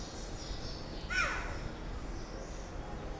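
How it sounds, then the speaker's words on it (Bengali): Crows caw among other bird calls outdoors while travelling home for the Eid holiday, one clear caw standing out over steady wind noise. "সেখানে প্রচুর শব্দ, পাখির শব্দ, পাখি, বাতাস, এগুলো শব্দ শোনা যাচ্ছে"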